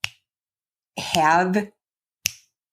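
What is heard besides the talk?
finger snapping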